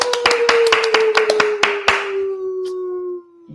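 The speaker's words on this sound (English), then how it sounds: "Everybody give a big round of applause." Sharp, irregular claps ring out in a quick burst over a steady droning tone, then thin out and fade, leaving the hum alone near the end.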